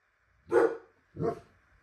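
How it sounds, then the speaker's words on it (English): A dog barks twice, loud and close, with short clear barks about half a second apart in an otherwise quiet indoor room. "I'm going to actually edit out all that freaking barking."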